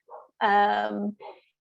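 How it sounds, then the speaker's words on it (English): Dog barking in a room during an indoor talk, one loud, close, tonal bark with a short whine before it and a softer yelp after. "apologies if you can hear my dog in the background"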